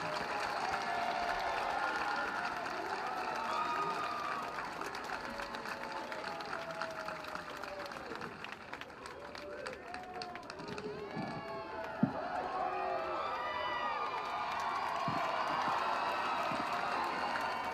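Large crowd of around a thousand protesters at a City Hall rally cheering, whooping and clapping, a continuous mid-distance roar with scattered shouts and a sharp clap-like spike midway, voices rising and falling throughout.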